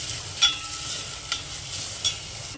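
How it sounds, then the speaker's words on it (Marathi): Dried bombil fish, onion and whole spices are stirred in hot oil for rice. The oil gives a soft, steady sizzle, and a spoon scrapes the pan at a few faint moments. "त्याला परतून घेऊया चांगलं, लाल लाल गुलाबी रंग होईपर्यंत."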